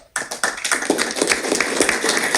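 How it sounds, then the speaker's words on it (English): An audience at a county board of commissioners business meeting breaks into clapping for a speaker, a crisp, close burst of individual claps that swells into brisk, steady applause. "I didn't have to pay for that clap"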